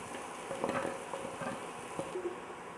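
Onion, green chilli, ginger and curry leaves frying in hot oil: a soft, steady sizzle with faint crackles and light pops, close and quiet, with no voices.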